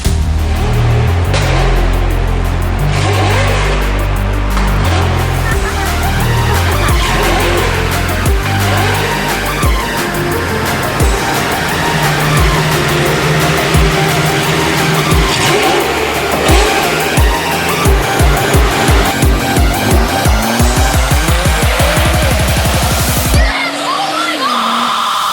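Sports cars racing at a car enthusiasts' event, engines revving loudly and continuously with rising and falling pitch, tires squealing as cars pass close by.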